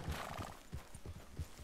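A horse in a frontier-era video game trots with quiet, rhythmic clip-clop hoofbeats and a faint snort, heard softly and alone.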